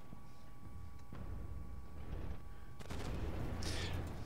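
Tank guns fire in Armored Warfare, several muffled booms and shots spread over a steady battlefield rumble, with a louder blast near the end.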